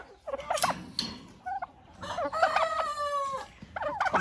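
Turkeys gobbling as they wait for nettles, several loud, close bursts of warbling calls with short pauses between, the longest rolling gobble in the middle, no voices.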